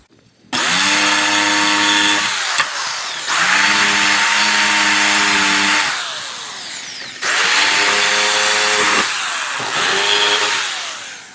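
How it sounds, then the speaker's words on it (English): Belt sander rounding off a primitive Adirondack-style chair carved from one piece of wood, running loud and close in three long bursts with steady motor whine, each dropping in pitch under load and easing off between passes. "Belt sander's awesome, and it eats it up pretty quickly"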